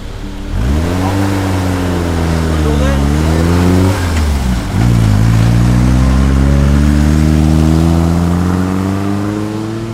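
Vintage cars rev their engines at a classic car rally, close and loud, pitch climbing and dipping as the engines rise and fall in repeated surges.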